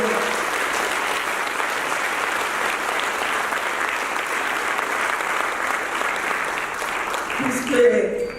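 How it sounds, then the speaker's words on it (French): Steady, dense audience applause at a Maison Shalom anniversary gathering honouring Burundian Canadians, sustained and even for several seconds before tapering with a brief swell near the end. "On va vous applaudir"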